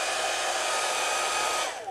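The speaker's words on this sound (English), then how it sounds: "Let me hit it with a hairdryer." A hair dryer blows steadily and loudly at close range onto an ink wash on watercolor paper, a continuous whooshing hum that tapers off near the end.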